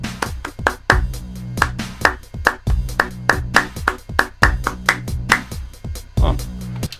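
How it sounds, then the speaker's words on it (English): Hands clap out a rhythm in a home music-production session, sharp regular claps mixed with low thumping beats in a repeating pattern, close and fairly loud. "Then I can, well, clap the rhythm maybe."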